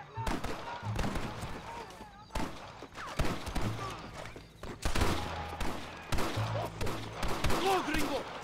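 Gunfire rings out in a Red Dead Redemption firefight: repeated rifle shots and bursts come in loud clusters with brief pauses, partly mixed with voices shouting over the shooting.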